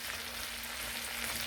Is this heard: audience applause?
no